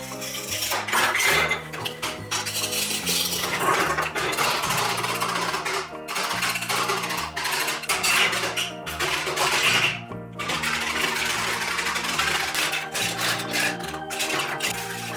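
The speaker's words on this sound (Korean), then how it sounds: "그럼 저희 현란한 칼질 감상하시죠." Rapid, continuous knife chopping of kimchi ingredients on a board with clattering kitchen noises, busy and loud throughout, with brief pauses.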